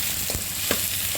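Onions sauté in a pan for Chettinad garlic kuzhambu, giving a soft, even sizzle with a few brief stirring knocks, close by and without speech.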